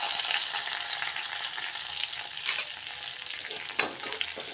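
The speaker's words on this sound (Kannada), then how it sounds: "ಈಗ ಇಲ್ಲಿ ನೋಡಿರಿ ಎಣ್ಣೆ ಒಳಗೆ ಫ್ರೈ ಆಗೈತಿ" Garlic and curry leaves frying in hot oil, a dense continuous sizzle with a few sharper pops and stirring scrapes, close and loud with no talking.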